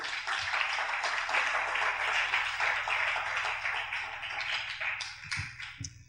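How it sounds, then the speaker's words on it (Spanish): A church congregation clapping for God, dense sustained applause from many hands that stays loud for several seconds and then thins out into a few scattered final claps. "Entonces vamos a aplaudir al Eterno."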